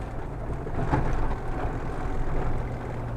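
An LS-swapped Jeep JK engine coasting with the throttle fully closed, a steady low rumble that swells slightly and stays close under the cabin.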